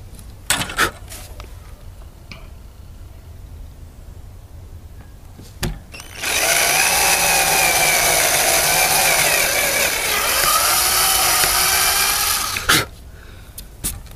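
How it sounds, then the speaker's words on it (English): A power drill countersinks holes in a ski for mounting Dynafit bindings, a loud whirring whine that holds for about six seconds and wavers in pitch, framed by close taps and clicks before and after. "once again, countersink the holes a little bit"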